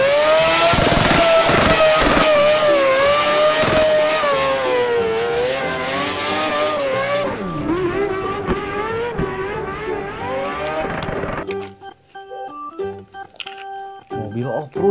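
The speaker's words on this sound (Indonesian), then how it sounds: "Mobil off-road." An off-road car engine revs loudly and close, its pitch climbing and falling in repeated sweeps before it thins out and gives way to scattered tonal sounds at the end.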